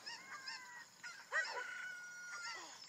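A cucco chicken in Zelda: Ocarina of Time 3D gives faint, honking clucks and squawks in short bursts over quiet background game sound.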